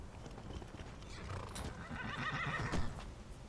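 A horse in the video game Skyrim neighs and whinnies over soft clip-clopping hooves, fairly quiet, rising to a louder whinny near the end.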